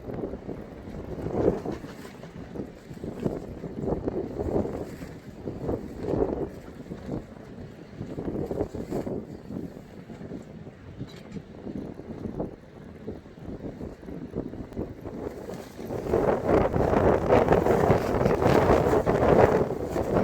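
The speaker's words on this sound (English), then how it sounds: "it's really, really strong and windy." Strong gusty wind buffets and flaps against the fabric of an inflatable air shelter tent in irregular bursts, rumbling low and growing louder and rougher toward the end.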